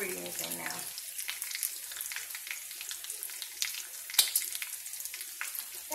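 Bacon frying in a pan for breakfast, a steady loud hissing sizzle that continues throughout, with one brief sharp clink partway through.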